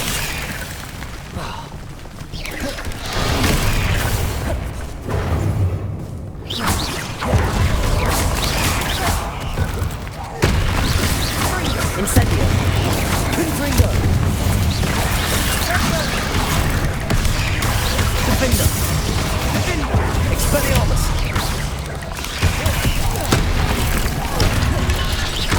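Incendio and Confringo spell explosions burst again and again in Hogwarts Legacy combat, a dense, loud run of booms, crashes and fiery blasts that barely lets up for the whole stretch.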